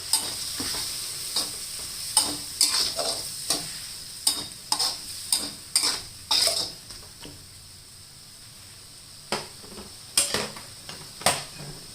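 Food sizzles steadily in a hot pan while a utensil scrapes and clacks against it in irregular strokes, close up with no voices.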